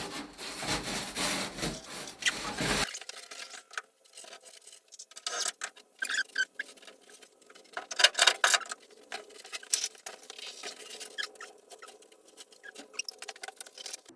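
Foam insulation board being trimmed by hand to fit around a beam during a workshop renovation, giving a loud rasping, sawing scrape at first, then intermittent scratchy rubbing and crumbling bursts at close range.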